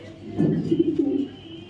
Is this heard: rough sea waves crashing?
no